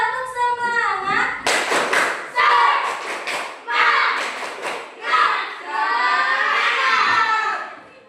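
Classroom of children doing a rhythmic spirit clap, bursts of sharp group clapping mixed with loud shouted chanting, the teacher's voice heard at the start before the class joins in.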